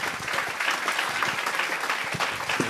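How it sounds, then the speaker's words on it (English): An audience at a live show gives performers a round of applause, continuous mid-distance clapping from a crowd with a few sharper individual claps standing out, steady throughout with no talking. "I want to have a big round of applause for Iyad and Jürgen, ladies and gentlemen."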